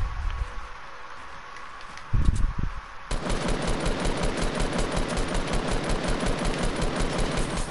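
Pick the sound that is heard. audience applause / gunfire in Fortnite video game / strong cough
gunfire in Fortnite video game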